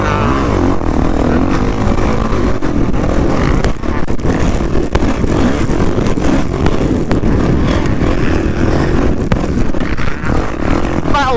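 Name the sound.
motocross bikes racing on sand track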